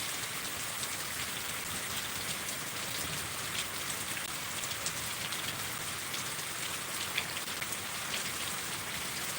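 Steady rain pours down and patters on a hard surface, a dense continuous hiss with no voices, close and even throughout.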